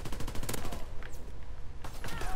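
Pistol shots ring out in a WWII multiplayer shooter on a canyon map, a rapid burst of sharp cracks at the start, a pause, then another cluster of shots near the end, with no talk over them.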